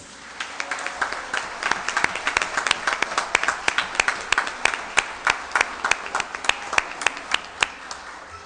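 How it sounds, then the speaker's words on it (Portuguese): Audience applause at a commemorative council session for Black Consciousness Day, a sustained round of crisp individual claps in a steady, slightly uneven rhythm, clear and fairly close. "eu gostaria de uma salva de palmas para ele"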